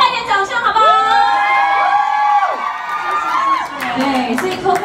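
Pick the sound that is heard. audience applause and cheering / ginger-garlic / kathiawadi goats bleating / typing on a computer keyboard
audience applause and cheering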